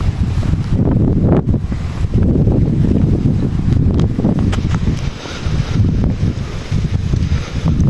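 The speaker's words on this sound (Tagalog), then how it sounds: "Grabe, mahangin talaga." Strong typhoon wind gusts across a mountain path in Benguet, roaring and buffeting the microphone continuously, with a rushing rumble that swells and dips.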